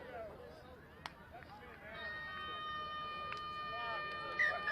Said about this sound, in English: As the full-time siren sounds